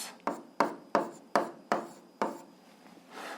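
Six quick strokes of writing, chalk or pen marking terms of an algebra equation, each a sharp scratchy onset that fades, close and alone, followed by a softer rubbing sound.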